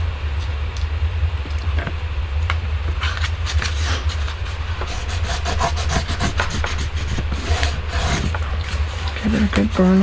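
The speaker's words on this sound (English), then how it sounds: "Get a good burnish." Bone folder rubbed firmly along the crease of a folded paper folio during bookbinding, a steady scraping friction in repeated strokes over a low constant hum, close and fairly loud.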